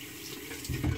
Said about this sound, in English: Now I'll just rinse my face and apply the aftershave.